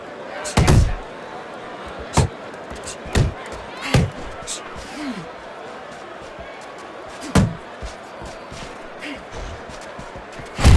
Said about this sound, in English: Great movement to get away from those punches.